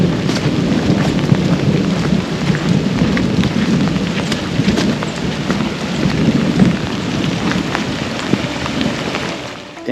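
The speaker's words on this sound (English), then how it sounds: "that's the thunder I'm talking about that's chasing us off this trail." Steady rain pours down on a hiking trail while deep rolls of thunder rumble through, the storm loud and continuous across the whole stretch with some wind buffeting.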